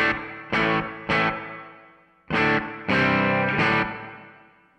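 Guitar through a TC Electronic Hall of Fame pedal set to plate reverb, playing six short distorted chord stabs in two groups of three, each tail dying quickly in the pause between groups.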